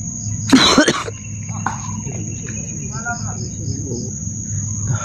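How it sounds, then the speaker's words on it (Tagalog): A single short burst of coughing stands out over steady insect chirping and a constant high-pitched cricket tone in the background. "Di mamupungan ng ubo"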